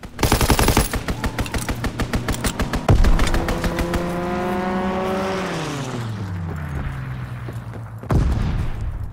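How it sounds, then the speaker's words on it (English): A fighter plane strafing run in Call of Duty: WWII, with rapid machine-gun bursts up front, then an aircraft engine sweeping past and fading, and another loud burst at the end. "Fighter pilot inbound. Strafing the target."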